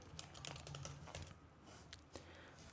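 Computer keyboard typing in quick irregular bursts of soft clicks, close by, over a low steady room hum, with a short pause before a final few keystrokes.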